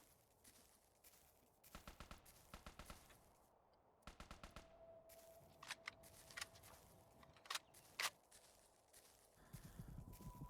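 An M4 carbine firing in the indie video game Zero Pixel Dawn: rapid bursts of sharp gunshots in clusters, fairly quiet overall, with a faint steady tone and scattered clicks between volleys.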